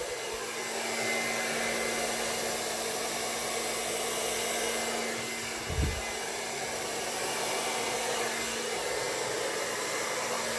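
An air blower pushes across wet acrylic pour paint in a Dutch pour, a steady loud whoosh of air running close and alone for about ten seconds, with one brief bump in the middle.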